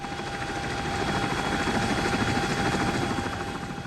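A CH-47 Chinook tandem-rotor helicopter heard from inside in flight, a steady dense rotor and engine roar with a rapid rhythmic throb and a faint whine, continuous and loud throughout.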